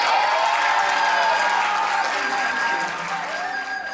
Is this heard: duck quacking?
no